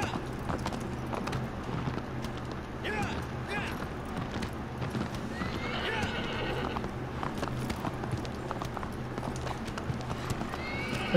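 Horse galloping in Shadow of the Colossus, a steady clip-clop of hooves throughout with a couple of neighs partway through, close and clear over a continuous game background.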